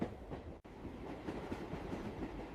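A passenger train rolls along its tracks with a steady, fairly quiet rumble and faint wheel clatter, continuous throughout without any voices.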